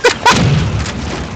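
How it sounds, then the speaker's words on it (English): Rocket blasts in a multiplayer flag-joust video game: two sharp, loud booms in quick succession, each trailing into a rumbling decay. "Ah, it's a rocket!"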